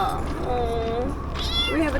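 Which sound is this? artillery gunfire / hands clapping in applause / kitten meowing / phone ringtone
kitten meowing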